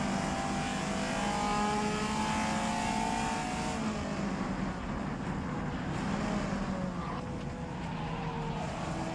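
A race car engine drones steadily at high revs in the rFactor racing game at the Targa Florio circuit, with shifting pitch as it accelerates, continuous and fairly faint throughout.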